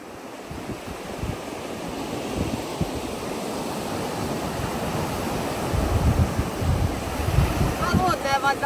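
Surf washing steadily onto a long sandy beach at Maspalomas, Gran Canaria, with broad continuous wash and wind noise buffeting the microphone, swelling slightly louder toward the end; no speech.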